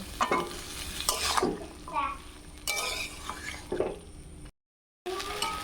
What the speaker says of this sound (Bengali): সেদ্ধ করা মটরগুলো দিয়ে দিব। সব ভালোভাবে মিশিয়ে নিব।